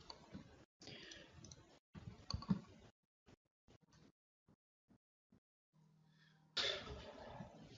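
Sparse computer mouse clicks while working in Cortona3D RapidAuthor software, single and paired dry ticks spaced irregularly across quiet gaps, with someone speaking in a webinar between them.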